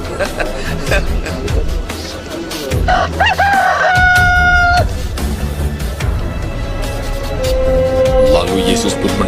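A rooster crows loudly once, a clear rising then sustained call, followed by a fainter second crow, amid background murmuring and rustling at a Good Friday church service.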